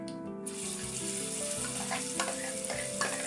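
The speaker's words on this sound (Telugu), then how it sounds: "ఇది వేసుకొని మంచిగా ఫ్రై చేసుకోవాలి" Onion paste sizzles steadily in a hot pan with curry leaves, a dense continuous frying hiss close by with a few scraping stirs on top.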